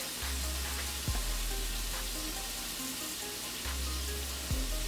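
Ground beef sizzles steadily in a Cosori multicooker pot, a soft continuous frying hiss with a few light clinks and stirring scrapes, close but quiet.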